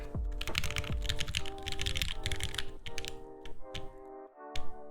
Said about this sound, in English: The gummy O-ring isn't flexible per se, but it has a slight bounce to the typing experience.